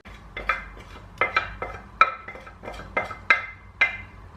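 A spoon scrapes and clinks against a bowl in a series of sharp, irregular knocks while melted chocolate is stirred into cookie dough, close by and without talk.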